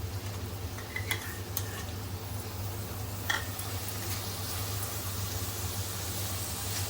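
Tomatoes fry with onion in hot oil in a pan for a chicken dish, giving a steady, close sizzle with a few brief scrapes and clinks as they are stirred.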